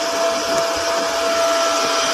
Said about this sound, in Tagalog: we are using a vacuum in our car,